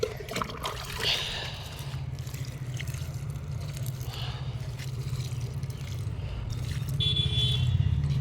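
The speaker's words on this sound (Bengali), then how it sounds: "চলো এবার একটু আরেকটু জল দিয়ে দিই গাছের গোড়ায়" Water poured at the base of a potted plant, a soft trickling and splashing over a low rumbling background with a few scrapes and taps at the start and later.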